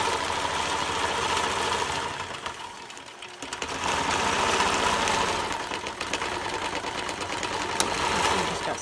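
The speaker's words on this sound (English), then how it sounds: "I'm going to do one more stitch line, and then I'm going to take the machine down this other side" A quilting sewing machine stitches a line with a steady fast mechanical chatter and hum, briefly easing off partway through and then running on close and loud.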